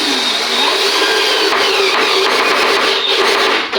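A power screwdriver drives a screw into hard wood with a loud, steady, strained whine that holds for several seconds without a break.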